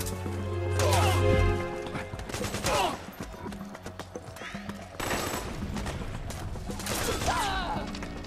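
Gunfire in Metal Gear Solid 4 on a battlefield: bursts of loud shots crackle across the scene, recurring every couple of seconds amid shouting voices and other combat noise.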